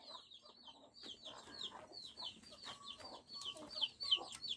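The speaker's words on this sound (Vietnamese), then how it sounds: "Kia là con gà mẹ đấy." A mother hen clucks among her many chicks in a rural mountain setting, with repeated high cheeps and low clucks in an irregular, lively pattern, close and clear.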